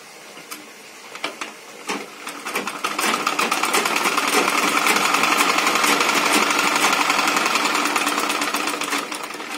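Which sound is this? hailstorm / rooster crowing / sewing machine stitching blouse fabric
sewing machine stitching blouse fabric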